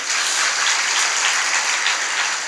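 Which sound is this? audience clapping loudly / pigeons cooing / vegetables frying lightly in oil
audience clapping loudly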